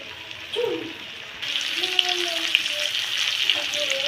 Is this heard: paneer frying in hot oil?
yes